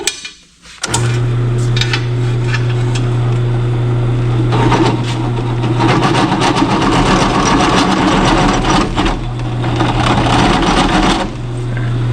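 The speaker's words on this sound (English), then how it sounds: "let's go see if we can drill through this" A power drill drilling through metal: a steady mechanical whine runs with a low motor hum while rough grinding and rattling bursts come and go, loud and close, with brief pauses.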